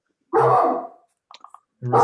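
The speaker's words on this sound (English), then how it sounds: "Who let the dog out?" Dog barking close by in an indoor setting: two loud barks with a few faint yips between them.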